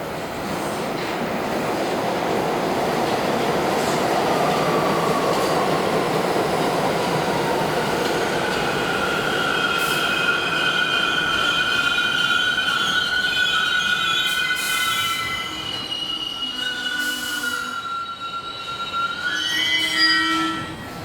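A New York subway train rumbles loudly as it pulls away, with wheels squealing and rising metallic screeches over a steady roar, very close and sustained.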